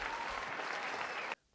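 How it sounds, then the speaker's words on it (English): A canned applause sound effect opening a podcast intro, dense clapping and light cheering at full volume that cuts off abruptly into near silence. "let me just cut the applause short"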